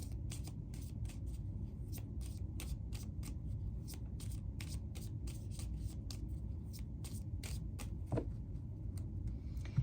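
A deck of oracle guidance cards is shuffled in rapid, regular riffling flicks over a steady low hum, close-up and fairly quiet, continuing for the whole stretch with no voice.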